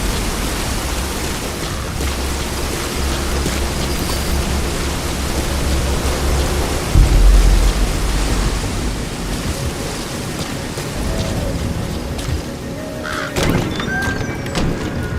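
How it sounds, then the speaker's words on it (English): Steady rain hisses continuously in the Metal Gear Solid V video game, a broad wash of falling water with a low rumble swelling briefly near the middle. "Caution, rain approaching."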